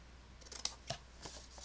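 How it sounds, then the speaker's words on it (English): Scissors snip through card paper to cut small triangles, a few crisp, close cuts spaced irregularly over a quiet room. "Cut your little triangles."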